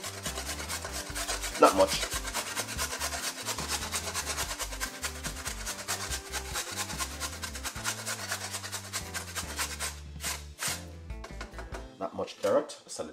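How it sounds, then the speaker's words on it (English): A carrot rasps against a kitchen grater at home for a fresh salad, steady back-and-forth scraping strokes for about ten seconds under a person talking, then a few sparser scrapes near the end. "simple grate a little bit of a carrot"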